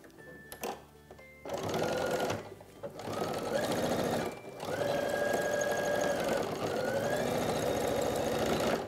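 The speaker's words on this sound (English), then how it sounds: "take this off and then sew this in place as well" A sewing machine stitching elastic casing onto shorts, running in a steady mechanical whir with short stops and restarts, close and clear.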